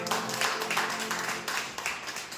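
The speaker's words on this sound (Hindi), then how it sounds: "यीशु उसकी उपस्थिति के लिए जोरदार तालियां मारते हैं।" A church congregation at a Sunday service claps loudly for Jesus, with steady rhythmic applause filling the room at an even level throughout.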